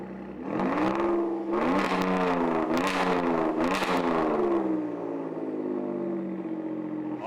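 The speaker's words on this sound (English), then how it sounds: "that's how a Raptor's supposed to sound, folks." A Ford Raptor truck's 3.5 engine is cranked and revved through its exhaust, several sharp rising blips over a rumbling idle, close and loud, settling back to a steady idle.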